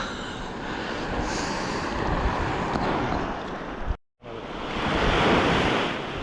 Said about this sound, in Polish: Jest dosyć duża fala